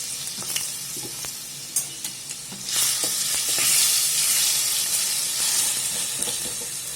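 Grated potato sautéing in oil with asafoetida, starting with spatula scrapes and taps, then a louder burst of hissing sizzle that swells and slowly settles, close and without talking.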